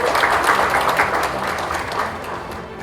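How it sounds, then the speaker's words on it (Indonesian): Brief applause ripples through a government coordination meeting on provincial infrastructure and regional development, many hands clapping together in a fairly loud, even burst lasting a few seconds. "Tepuk tangan dulu ini."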